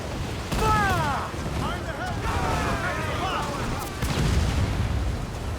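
Ship cannon fire in Assassin's Creed Black Flag, deep booms rumbling under shouted crew commands and voices, with a heavier blast near the end over a constant sea-battle din.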